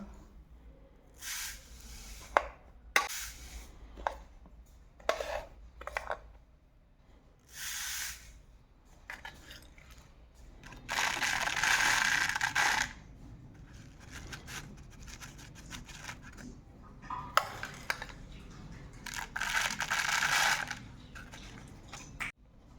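Poppy seeds poured in intermittent hissing streams into a paper cone, soft rustling trickles coming in bursts with quiet gaps between, close and fairly faint.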